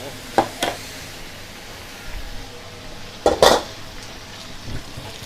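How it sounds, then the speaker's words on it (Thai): Beef with holy basil being stir-fried in a pan: a low steady sizzle with a few sharp spatula scrapes and clanks against the pan, loudest in a pair of bursts midway, no talking. "จะผัดไปเรื่อยๆนะคะ"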